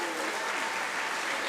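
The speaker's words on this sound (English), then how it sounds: "please, a round of applause for Mink Ette and Arlo Howard." Audience applause at AdventureX 2023, a game developers' conference, sustained and dense through the whole moment as a crowd claps for speakers arriving on stage.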